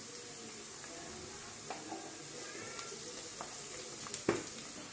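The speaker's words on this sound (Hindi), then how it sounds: "इसे अच्छे से मिक्स करेंगे।" A spoon stirring pizza sauce ingredients in a pan over a steady soft sizzle, with occasional faint scraping clicks and one sharper knock near the end, heard alone at low level.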